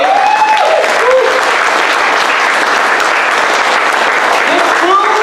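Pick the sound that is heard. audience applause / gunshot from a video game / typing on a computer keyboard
audience applause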